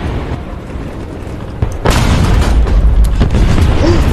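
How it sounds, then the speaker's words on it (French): A tank shell fires with a heavy, deep boom in World of Tanks Blitz or War Thunder, one loud blast that swells and hangs over a low, steady rumble. "Le mec lui tire un obus"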